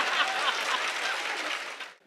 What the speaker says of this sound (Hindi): अब ताली बजाओ नहीं तो ये हाथ यहीं रहेगा रात भर